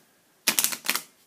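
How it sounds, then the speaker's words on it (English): A deck of Onitama board game cards gets a quick riffle shuffle: two short bursts of fluttering card snaps in close succession, crisp and near, with no talking. "you have to shuffle the cards, so I'm going to do that real quick here"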